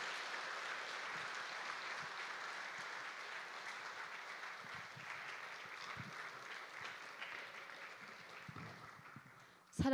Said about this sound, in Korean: 격려의 박수 한번 해주시고